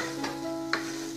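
Potatoes with spices are stirred in a frying pan, with a steady sizzle underneath and a couple of soft scraping strokes from the utensil, close and moderately quiet.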